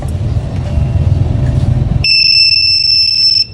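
A low motorcycle engine rumble cuts off, then a loud, steady high-pitched electronic beeping tone from the motorcycle alarm remote sounds close by for over a second; Suzuki Raider FI.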